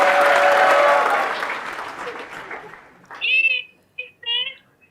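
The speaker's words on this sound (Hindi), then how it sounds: "आपके लिए अभी यहाँ पर सब लोगों ने बहुत बड़ी तालियां बजाई." A crowd applauds loudly for about three seconds, the clapping fading out before a voice begins speaking.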